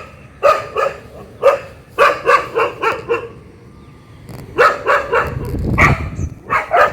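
Several dogs bark nearby in bursts of rapid, loud barks separated by short pauses, with some higher yips mixed in.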